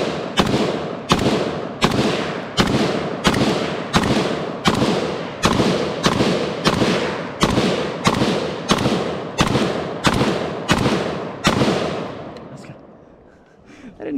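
A CZ Bren 2S carbine fired in rapid semi-automatic succession, around twenty sharp, loud, close reports at a quick, even rhythm, each with a short echoing tail, ending in fading reverberation.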